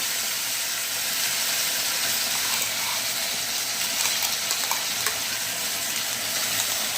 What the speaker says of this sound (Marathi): आता हा पण छानपैकी याच्यातच तेलामध्ये तळून घ्यायचा आहे